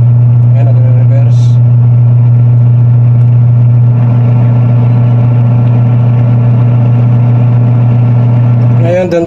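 Motor of an automatic top-load washing machine running close up: a loud, steady low hum with a constant pitch throughout, with a brief faint voice near the start and a clatter at the end.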